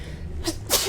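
A single sharp sneeze from a person on a comedy show set, a brief close burst with a quick inhale before it, standing alone without speech.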